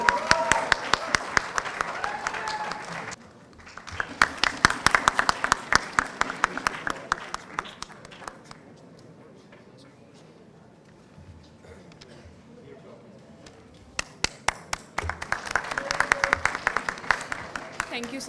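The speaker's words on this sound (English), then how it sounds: "So big round of applause." A ceremony audience at a university Model UN closing event breaks into applause, claps in two bursts that fade into a quieter lull with murmuring, then swell again near the end, while talk runs in the background.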